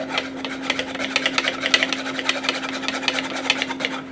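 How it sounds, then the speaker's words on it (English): A lumpy mixture being mixed by hand in a bowl, a quick steady scraping and rubbing rhythm, close and moderately loud, with a faint low hum beneath. "So I'm just going to mix it until it's not lumpy anymore"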